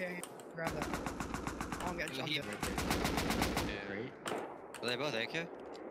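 Rapid bursts of automatic AK rifle fire from the survival game Rust, loud and close, in repeated strings of shots broken by short pauses, with players' voices talking over parts of the firing.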